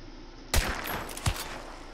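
Gunfire from the video game Hunt: Showdown, heard as one sharp shot followed by a second fainter report, over quiet game ambience.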